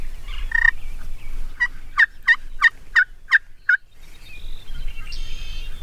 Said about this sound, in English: Here comes the turkey up the road.